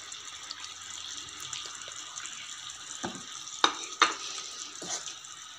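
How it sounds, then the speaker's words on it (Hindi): Boiled spaghetti tossed with vegetables in a hot pan for chicken chow mein, a soft, fairly quiet sizzle under a few sharp scraping and clinking stirs of the utensil. "स्पैगेटी को हमने अच्छी तरह से मिक्स करना है ताकि ये गर्म भी हो जाए"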